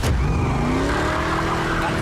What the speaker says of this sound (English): a muscle car drives up